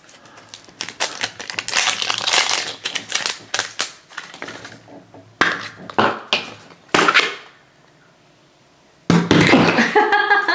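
Hatch a Unicorn Mashems toy eggs crack open in rapid bursts of crunching, snapping and crinkling plastic, close and loud, with short pauses between the bouts.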